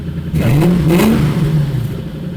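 A turbocharged car engine with its silencers cut off revs up loudly, its pitch rising and then falling back in one brief burst close by.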